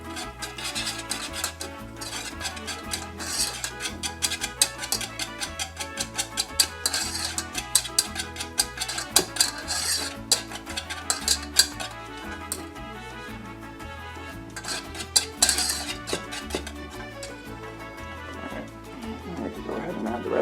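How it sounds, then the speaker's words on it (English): A metal whisk rattles quickly around a mixing bowl in a home kitchen while a burrito filling is prepared, giving a steady run of close, bright clicks and scrapes with a voice speaking over it now and then. "We're just going to whisk that around in there."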